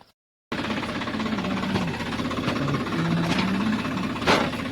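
A tractor ploughing a farm field, its engine running with a steady, throbbing drone after a brief silent start, holding a constant level throughout with no voices.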